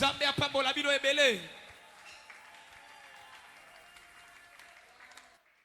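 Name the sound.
congregation applause for the Lord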